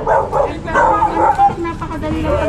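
Aggressive dogs bark close by in loud, repeated bursts mixed with yips and whimpers, and human voices can be heard among them.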